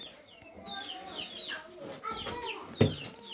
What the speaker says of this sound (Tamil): கோழி குஞ்சு இங்கே பாருங்க